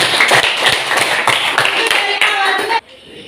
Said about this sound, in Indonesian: Tepuk tangan untuk Benyamin.